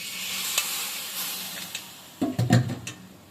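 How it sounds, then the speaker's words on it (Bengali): A spoon stirs boiled potatoes with sugar and some of their cooking water in a kadai, for a green pea kachori filling: a few brief scraping strokes late in the clip after quieter moments, with no talking. "এবার ভালো করে মিশিয়ে নিচ্ছি"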